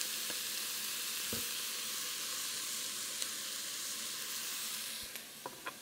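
Canned chopped green chilies sizzle with browned onions in a pan, a quiet, even hiss with a few faint clicks of a utensil near the end and no speech.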